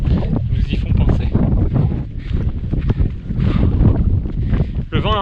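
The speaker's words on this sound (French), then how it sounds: "Le vent est encore un peu frais là." Loud, gusty wind buffets the microphone among sand mounds near desert dunes during an ultramarathon stage, a heavy low rumble throughout with a voice partly heard under it.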